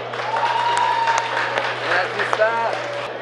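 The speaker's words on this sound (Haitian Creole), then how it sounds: "je vais demander pour nous applaudir très très fort Monsieur Testé Nicolas" An audience applauds for Monsieur Testé Nicolas at an event in Haiti, a steady wash of clapping under a continuous hum, with a voice talking over it.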